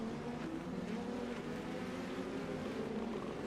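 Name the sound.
race car passing in iRacing video game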